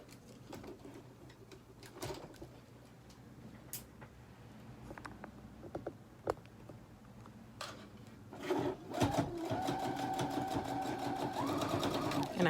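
A sewing machine stitches lace into the leg seam of jeans. Scattered handling clicks and rustles come first, then the machine starts and runs steadily through the last few seconds.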